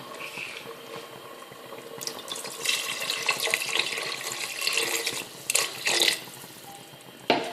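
Water pours steadily into a pressure cooker pot with a hissing splash, growing louder and more turbulent midway, then trailing off with a few spurts.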